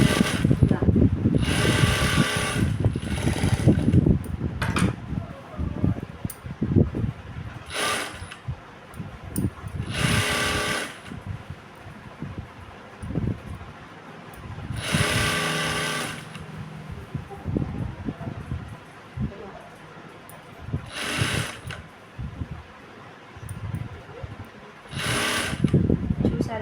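A sewing machine stitching a blouse runs in repeated bursts of fast mechanical whirring, separated by pauses filled with handling noise, while someone talks between and over the stitching.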